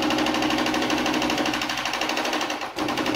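A sewing machine stitches a curtain hem with a rapid, steady mechanical whirr and fast needle chatter, close and loud, slowing and dipping briefly near the end before picking back up.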